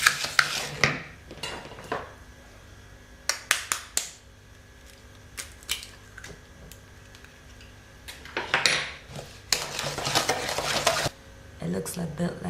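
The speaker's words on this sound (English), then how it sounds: "You then add 2 eggs and beat those in." Eggs beaten into brownie batter with a utensil, scraping and clinking against the bowl in irregular bursts, close and fairly loud, with short pauses between spells of beating.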